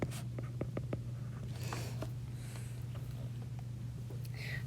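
Pen or marker strokes scratch out a definition during a grade 8 math lesson on slope: a few short, quiet taps and scrapes over a steady low hum, with no talk.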